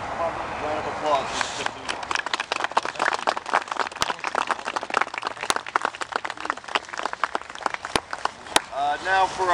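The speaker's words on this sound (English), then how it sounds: "Round of applause." Crowd applause at an outdoor wreath-laying ceremony at the Fishkill Supply Depot during Wreaths Across America, dense steady clapping from many hands lasting several seconds, with a voice briefly at the start and end.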